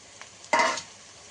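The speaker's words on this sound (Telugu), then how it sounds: "ఇవి కొంచెం రెడ్గా అయ్యే వరకు నూనెలో గోలించుకోండి" Chillies dropped into hot oil for egg bhurji, giving a sudden burst of sizzling that quickly fades out after a faint earlier crackle.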